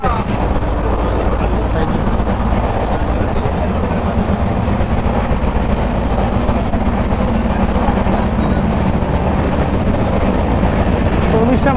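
Tamralipta Express from Howrah to Digha running at speed, heard from inside a coach as a loud, steady rumble and rattle of wheels on track with no break.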